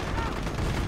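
Machine-gun fire in a Company of Heroes 4v4 battle, a rapid continuous fusillade of shots forming a dense, steady crackle with no gaps across the whole moment.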